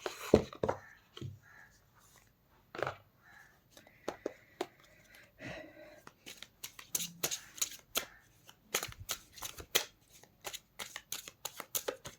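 Tarot cards are shuffled by hand in a quiet room, giving soft scattered riffles and slides early, then a fast run of crisp card snaps near the end.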